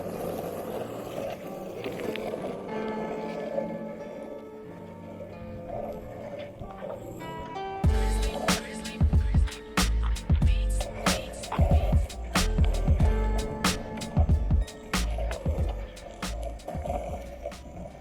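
A skateboard rolling along the ground with a smooth grinding hum, then a burst of rhythmic, rough thumping and scraping like repeated clacks over seams or a foot dragging to brake, fairly close and loud.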